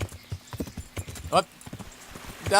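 A horse is ridden at a steady clip-clop in the medieval game Kingdom Come Deliverance. Its hooves fall in a close rhythmic patter, with a brief snort or whinny partway through and again near the end, and a voice speaks faintly over it.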